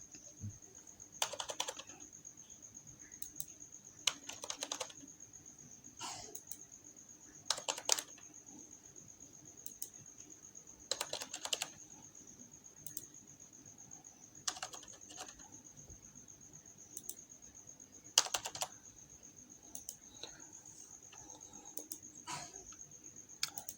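Clusters of keystrokes on a computer keyboard as text is typed, short quiet bursts of clicking spaced a few seconds apart over a faint steady background hum.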